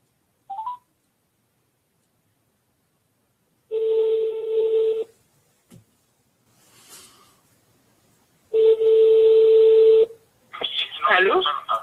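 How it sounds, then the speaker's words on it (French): Telephone keypad tones and ringback tones on a live French-language radio or web broadcast as the host calls a listener, with steady electronic tone bursts separated by silence and a brief voice fragment near the end. "je vous ai promis que j'allais vous appeler"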